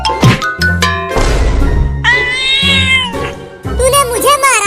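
A cartoon cat meows loudly and repeatedly in drawn-out, wailing cries, with short bursts of background noise between the calls.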